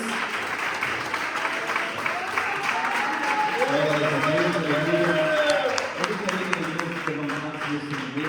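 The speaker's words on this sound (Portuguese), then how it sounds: "palmas para o Senhor Jesus" A church congregation claps for Jesus during a service, a steady wash of many hands clapping while a preacher's voice rings out over it in the middle and later.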